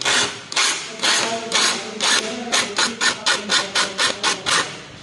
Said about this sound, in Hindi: इक साइड चलाउणा आपां टकोरा